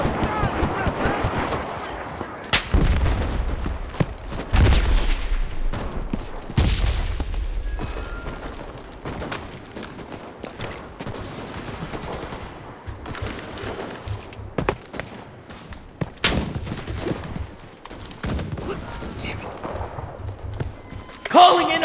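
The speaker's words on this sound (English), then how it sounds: "Calling in artillery!" Artillery blasts and rifle and machine-gun fire crack and boom in the video game Enlisted, with heavy irregular bursts and scattered shots, some close and loud, others distant, throughout.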